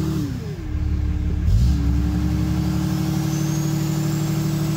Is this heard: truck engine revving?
yes